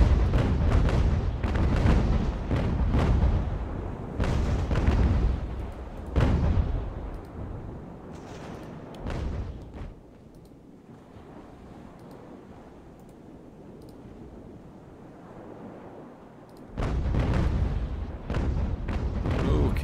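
Naval cannon broadsides boom repeatedly in Ultimate Admiral, a sea battle around a troop ship. Loud, heavy blasts come in rapid clusters, fall away to a low rumbling lull, then return in a fresh volley.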